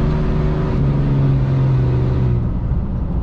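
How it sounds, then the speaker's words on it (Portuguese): A Dodge Ram pickup on 37-inch tires revs hard with its wheels spinning, a loud, steady engine roar close by that holds for a few seconds and then eases slightly. "Qualquer horário que você quiser, pisou, pisou, ela patina"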